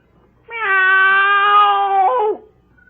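A man imitates a cat with a long, loud, drawn-out meow that rises at the end, a single call heard alone and up close.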